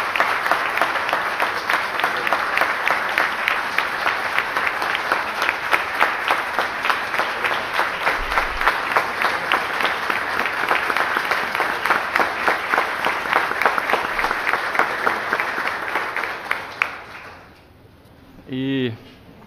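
Sustained applause fills a city council chamber during a ceremony, a thick even roar of clapping that carries on for a long stretch before cutting off, followed by a brief voice.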